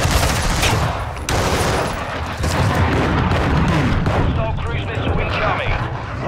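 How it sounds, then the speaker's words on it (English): Explosions from a cruise missile strike in Call of Duty: Modern Warfare II, with heavy rumbling blasts and crackling gunfire layered together, loud and dense throughout while a voice talks over them. "Hostile cruise missile incoming."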